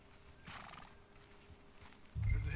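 A horse in the video game Red Dead Redemption 2 lets out a whinny, then its hooves clop loudly and close by near the end.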